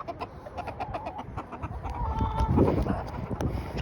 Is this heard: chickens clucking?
yes